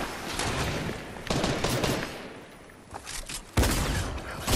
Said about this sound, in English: I'm going in with my shotgun.